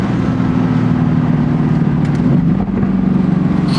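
2020 Mercedes-AMG GT C roadster with the top down, its exhaust holding a steady deep drone and grunt while cruising, loud and continuous with wind and road noise.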